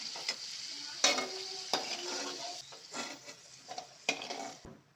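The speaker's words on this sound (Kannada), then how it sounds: "ನುಗ್ಗಿಕಾಯಿ ಹಾಗೆ ಫ್ರೈ ಮಾಡ್ಕೊಳ್ತೀನಿ ಎಣ್ಣೆಯಲ್ಲಿ" Drumsticks frying in oil in a pan, a soft crackling sizzle broken by several sharp scrapes and clatters of a spatula stirring them, fairly close and quiet, with no talk.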